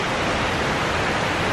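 Kuang Si waterfall near Luang Prabang gives off a loud, continuous broadband roar of rushing water, steady and close with no breaks or voices.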